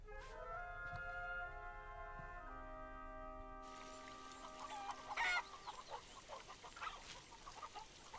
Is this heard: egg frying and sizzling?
no